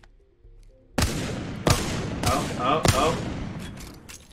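Four loud, close gunshots go off at roughly even intervals from a weapon hip-fired in Apex Legends, each with a short ringing decay. A single brief exclamation comes between them.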